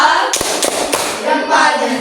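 A class of schoolchildren does a rhythmic thumb clap together in a classroom, producing several sharp, loud group claps in quick succession over a background of chatter and voices.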